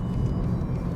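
BMW 320d, rear-wheel drive, pulling hard at full throttle in sport mode: a steady, loud low engine drone with road rumble, continuous through the moment with no talk.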